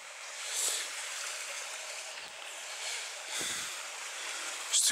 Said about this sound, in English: crossing Bear Creek right now.